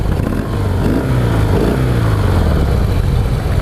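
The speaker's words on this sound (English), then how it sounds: "Let's give it a little rev here." A 2016 Harley-Davidson CVO Pro Street Breakout motorcycle engine, stock exhaust, rumbles loud and close, rising in a rev with a low throbbing tone and settling back to idle.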